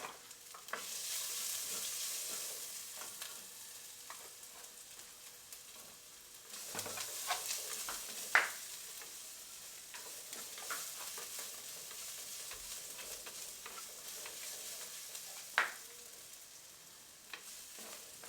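Ginger and garlic sizzle steadily in a hot pan, a broad hiss with occasional scraping stirs and small pops, heard close and without talk.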